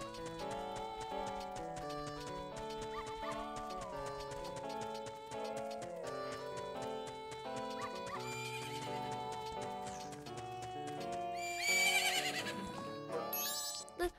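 A horse neighs and hooves clip-clop over steady game music in The Legend of Zelda: Majora's Mask, with a bright jingling flourish near the end.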